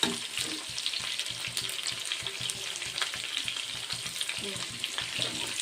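Pirandai (adamant creeper) sautéing in a pan for Chettinad-style kuzhambu, a steady close sizzle with rhythmic scraping of a spoon stirring throughout.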